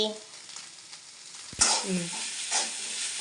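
Chicken podi fries in a pan while being stirred, with scraping strokes over a continuous sizzle that grows louder partway through.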